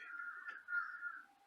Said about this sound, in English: mouthy birds.